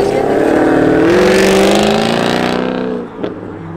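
A car at a rainy December cars and coffee meet revs hard and loud up close, its engine sustaining a rising, rasping roar before dropping off abruptly near the end.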